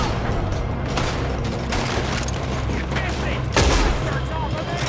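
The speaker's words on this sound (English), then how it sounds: "That was a warning shot." Rapid gunshots ring out in a Red Dead Redemption 2 shootout, a steady crackle of distant and nearby fire with one heavier blast near the end, amid a noisy battle din.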